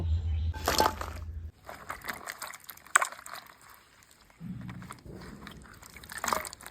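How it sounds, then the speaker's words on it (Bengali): Okra is washed by hand in water. Faint sloshing and splashing comes in short bursts, with quiet trickling and dripping in between. "প্রথমে ঢেঁড়সগুলো ভালো করে ধুয়ে নেব"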